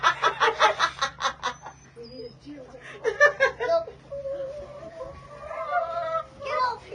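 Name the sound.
chicken clucking while being held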